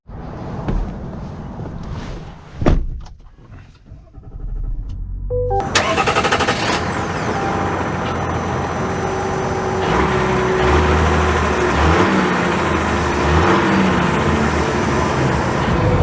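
A 2024 Chevy Silverado Trail Boss Duramax diesel pickup cranks and fires up after a few clicks and a thump, then settles into a steady, rumbling engine drone that builds as the truck drives off.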